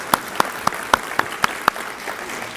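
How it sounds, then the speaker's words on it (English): An audience gives a veteran a round of applause, a small group clapping in a loose, unsteady rhythm of distinct claps at moderate volume before it tapers off. "I'd like to give Russell a round of applause."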